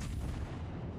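A single heavy naval gun salvo booms from a warship in World of Warships Legends, a deep blast with a rolling low rumble that decays over about a second, with no talk.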